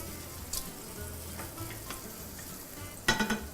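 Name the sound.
finely chopped onions frying with bacon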